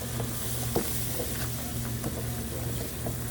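Flour stirred into melted butter for country gravy sizzles steadily in a pan, a constant frying hiss with occasional soft clicks and scrapes from the stirring utensil, no speech.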